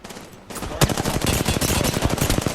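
Rapid automatic gunfire from an Apex Legends firefight starts after a short quiet stretch and continues as a loud, dense burst of shots.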